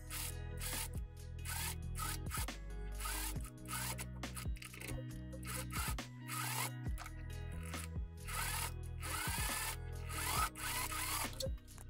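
A sewing machine stitching around the neckline of a traditional German dirndl bodice runs in short motorized bursts with pauses between, a close mechanical whir that starts and stops repeatedly.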